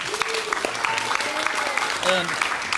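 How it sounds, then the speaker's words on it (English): Young children in a second-grade school audience applaud after an instrumental presentation, a busy patter of small hands with excited voices and squeals mixed in, close and lively throughout. "Can you give him a round of applause?"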